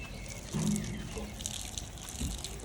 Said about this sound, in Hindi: पानी लगाया जा रहा है